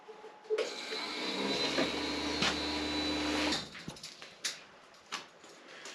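An electric sharpening machine runs with a steady motorized whir and whine for a few seconds, then cuts off, leaving scattered knocks and faint handling noises.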